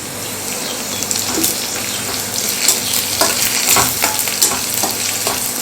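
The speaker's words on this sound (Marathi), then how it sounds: "हे सगळे पदार्थ आपण एक मिनिटभर छान असे परतून घेऊयात" Garlic, ginger and curry leaves sauté in oil in a pan, giving a steady loud sizzle with occasional stirring scrapes and spatters, with no voices.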